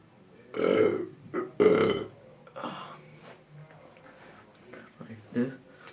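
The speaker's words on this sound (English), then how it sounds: "burp a couple times" A person burps several times in a row, a couple of loud, drawn-out belches up close, then smaller ones, with quiet gaps and faint mouth noises between them.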